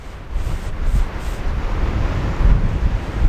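Gusty coastal wind buffets the microphone in a steady low rumble, with a faint wash of surf underneath, rising in strong gusts near the end.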